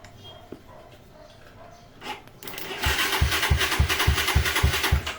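A Suzuki Raider 150 motorcycle engine sputters, then catches and settles into a steady, throbbing idle with a rhythmic chugging pulse, close and fairly loud, running even with the ignition switched off.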